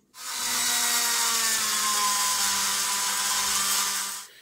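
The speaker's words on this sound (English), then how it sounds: "then we can put that into the rotary tool" A rotary tool grinds down the wheel flanges of a Triang Blue Pullman model train axle, a steady high whining grind with a rising tonal drone lasting about four seconds, close and loud with no talking.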